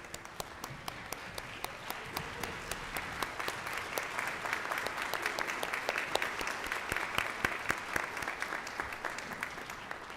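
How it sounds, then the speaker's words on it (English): A standing audience applauds at a medical school winter commencement ceremony, a sustained roomful of clapping with distinct sharp individual claps punctuating the dense crowd sound, swelling slightly in the middle. "Please join me, the audience and our students, in standing, and let's give him a round of applause,"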